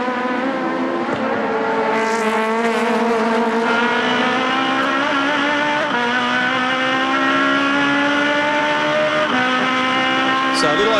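Aussie Racing Cars at a circuit race in Adelaide sliding into a corner, tires squealing in long sustained wails over steady engine drone, loud and continuous throughout with a sharp burst near the end.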